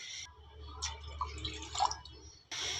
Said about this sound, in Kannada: ಎರಡು ಕಪ್ಪಷ್ಟು ನೀರು ಹಾಕ್ಕೊತೀನಿ